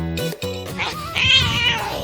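Cats at a school meow several times in a row, with short close calls at first, then a longer, louder, strained yowl.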